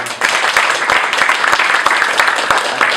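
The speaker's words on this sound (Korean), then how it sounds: "하나님께 크게 박수로 한번 감사를 표현해 주시기" A church congregation claps together in thanks to God after the choir's music, a steady dense burst of applause that fills the room for a few seconds.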